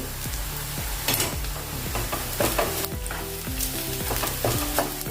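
Masala stirred into softened onions in a pan for dhaba-style chana dal tadka: a steady close sizzle with repeated scraping strokes of a spoon, and short sharper clinks against the pan as the mixture is turned.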